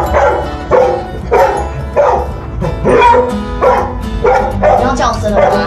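A search and rescue dog in training barks loudly and close by, about nine sharp barks in a steady repeating rhythm.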